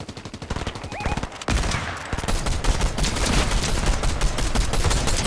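Rapid hip-fired gunfire in Fortnite Zero Build ranked Reload squads, dense loud bursts of shots in fast rhythm running almost continuously, close and dominant, with a player speaking briefly under it.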